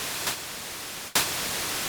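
A Roland JD-Xi digital synthesizer sounds its white noise waveform as an even, bright hiss, briefly interrupted at the midpoint and then restarting with a slight burst, with no other sounds.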